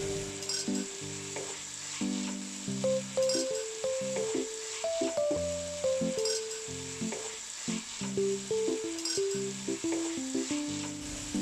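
Cubed carrot, small radish and pumpkin cubes sizzle steadily in a pan while being stirred, with a soft, continuous fry broken by occasional clinks of the spoon against the pan.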